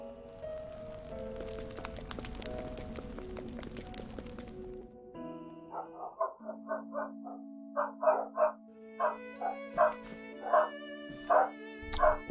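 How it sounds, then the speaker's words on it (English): A pet dog barks repeatedly at home, a steady string of sharp barks at a fairly regular pace, close and distinct after a stretch of background game music. "Apologies, I might be hearing my dog a little bit today"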